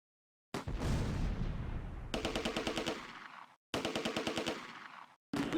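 Machine gun fire in the WWII game Close Combat A Bridge Too Far: a loud boom is followed by three long rapid bursts of automatic fire, each stopping abruptly, with short silent gaps between, close and with no voices.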